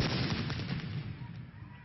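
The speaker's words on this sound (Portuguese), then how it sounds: "Ali o material foi explodido." A bomb squad's controlled detonation of suspected explosive material, set off in a small pit dug in the ground: a dull, heavy blast rumbles at the start and fades into a long, rough low decay, heard from some distance.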